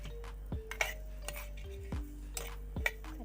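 Radish sabzi being stirred and turned over in a pan, a few distinct scraping strokes of a spatula against metal with soft clinks between them, close, with no talking.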